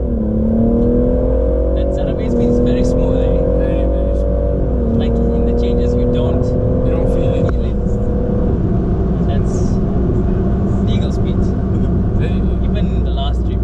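A remapped BMW M140i in South Africa revs with a loud, rising engine drone and pulls through smooth gear changes, then its exhaust keeps up a steady roar from inside the car.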